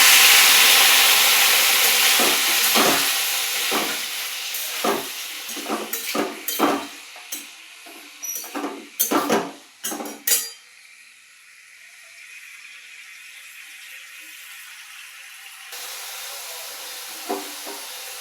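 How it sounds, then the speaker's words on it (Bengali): Paneer fries in hot oil in a kadai, a broad sizzling hiss loud at first and fading, punctuated by a series of sharp utensil scrapes and knocks against the pan before the sizzle settles quieter. "এবার কড়াইতে পনিরটা ভাজা চলছে"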